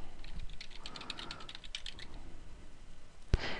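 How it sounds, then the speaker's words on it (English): An email address is typed on a computer keyboard as a quick run of close, light key clicks, followed by one sharper click near the end. "In the first box, labeled Email, type in the email address at which you want to receive email."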